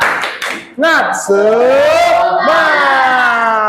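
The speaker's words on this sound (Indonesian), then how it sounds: "Tepuk semangat." A class of students doing a rhythmic clap cheer in a classroom session, a few quick patterned claps followed by a loud, drawn-out group chant of voices shouting in unison.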